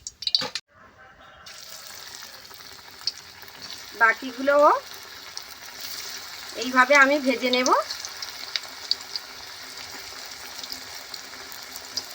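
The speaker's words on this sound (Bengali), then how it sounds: "একই রকমভাবে আমি আবার কিছু ভাজবো" Moringa leaf fritters frying in hot oil give a steady, close crackling sizzle throughout, broken twice by brief, high, chirpy vocal sounds.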